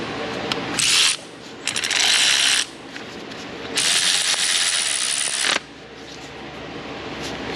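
Ratchet wrench clicking in two rapid bursts, then a longer steady run, while tightening a bolt on a Honda Odyssey 3.5, close and loud with short pauses between.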